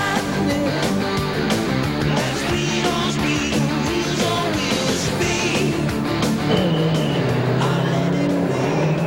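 Big V8 touring race cars at a street race, engines roaring loudly and continuously as they pass close by, with layered revving and a rising tone toward the end.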